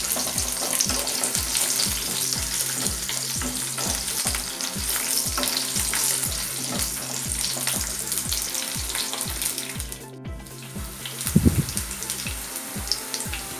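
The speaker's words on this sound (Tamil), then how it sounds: "வெண்டைக்காய் நல்லா வதங்கிருச்சு." Okra sautés and fries in a pan for a Tamil mor kulambu, a constant close sizzle under regular rhythmic scraping of a spoon stirring, with a brief louder clatter near the end.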